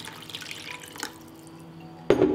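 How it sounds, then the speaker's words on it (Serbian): Water is poured over ingredients in a cooking pot, starting abruptly near the end as a close splashing gush, after a few faint drips and quiet kitchen background. "Nalit ću sa vodom da prekrije sastojke."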